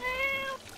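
A cat meows in the My Time At Portia video game, a single drawn-out, tonal call lasting about half a second, close and clear, followed by a quiet tail of game ambience.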